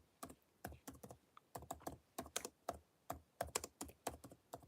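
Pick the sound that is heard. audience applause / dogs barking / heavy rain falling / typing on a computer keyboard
typing on a computer keyboard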